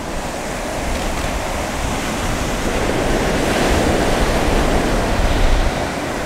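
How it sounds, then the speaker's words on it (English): Sea waves break on a rocky coast, a loud, continuous roar of surf and wash that swells gently toward the end, with wind buffeting close to the microphone. "catching breaking waves"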